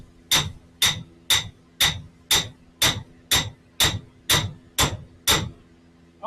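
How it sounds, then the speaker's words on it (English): A hardened hammer strikes a hardened shaft during a KL 6-speed transmission assembly, about eleven sharp metallic blows in a steady rhythm, each ringing briefly before the next. "Like a hardened hammer on a hardened shaft."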